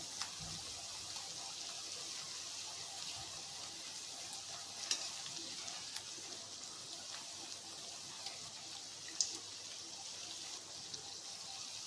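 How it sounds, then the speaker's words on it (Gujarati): Quiet, continuous sizzling of sweet milk puris deep-frying in hot oil, with occasional soft pops and crackles throughout. "આ રીતે આપણે બધી જ સુવાળીને તળી લઈશું"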